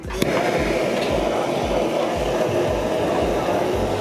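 A kitchen torch roars steadily as it sears the top of a sushi roll, a constant rushing flame hiss with soft rhythmic thumps pulsing beneath and a sharp click near the start.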